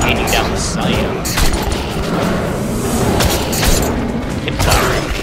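Pistol shots fired from the hip in a video game, several sharp reports spaced irregularly amid mechanical clatter, with a person talking over them.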